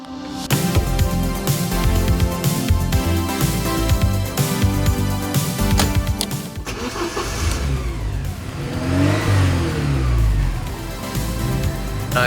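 1987 Porsche 944 Turbo engine while driving, with a loud, close engine that idles, then revs and accelerates with rising and falling pitch, with no talk.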